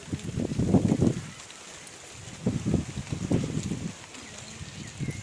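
Low wind rumbles against the microphone in a few heavy gusts, with quieter lulls between them.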